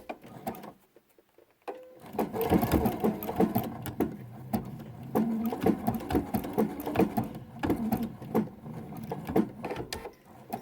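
Sewing machine running steadily as it stitches a decorative stitch along quilt binding, a continuous close mechanical whir with rapid needle patter, starting after a brief quiet pause.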